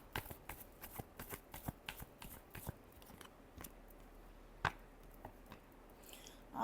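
Tarot cards are shuffled by hand in a quiet room, giving soft, rapid papery flicks and riffles in an uneven rhythm. They are close but faint, with a couple of sharper taps near the end and no voices.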